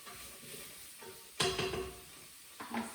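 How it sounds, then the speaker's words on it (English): A spoon stirs curry powder in a cooking pot, giving a brief scraping, sizzling swish that starts sharply and fades, then returns more softly, close and alone. "I'll give that a quick stir around."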